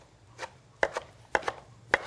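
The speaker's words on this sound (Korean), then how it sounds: "그러니까 좀 잘자라게 제가 잘라볼게요" A kitchen knife chopping seaweed for a cold soup on a cutting board, about six crisp separate knocks in an uneven rhythm, close and fairly quiet, with no talk.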